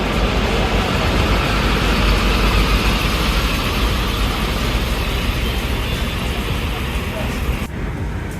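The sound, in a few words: bus entering Grogol bus terminal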